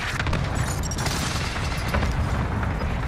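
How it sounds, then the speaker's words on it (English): Loud, dense rumbling blasts from a precision airstrike in a shooter video game, a continuous barrage of booms and crackling debris with no gaps across the clip. "Ally precision airstrike incoming."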